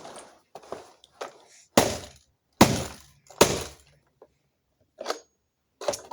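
An Emerson iPod docking station is smashed apart in a run of separate sharp cracking, breaking blows spaced by short silences, close and fairly loud.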